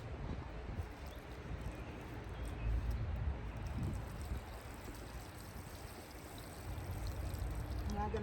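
Water pours steadily onto garden soil around freshly transplanted kale, a continuous splashing wash that swells slightly midway, fairly close and without talk.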